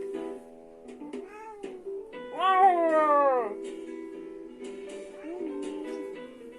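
A cat meows close by in a quiet room. It gives a few soft mews, then one long, drawn-out meow in the middle, then a shorter, fainter meow near the end.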